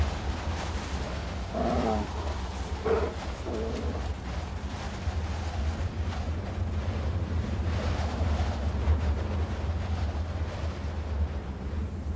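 Storm wind buffets the microphone over the Alaskan ocean while waves surge and wash steadily, a constant low rumble with gusty swells and a few brief louder bursts, no voices.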